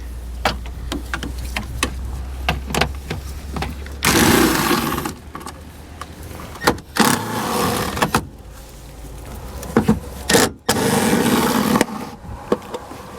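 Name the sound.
removing taillight nuts with an 8mm socket on a BMW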